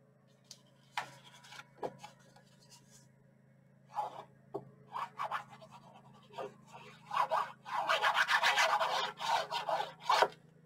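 A white cardstock flap is burnished, giving short, close rubbing and rasping strokes in scattered bursts that grow into a denser run of scraping near the end, with no talking.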